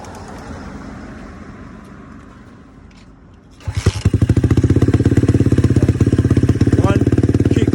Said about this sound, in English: Let's start the bike up again one more time.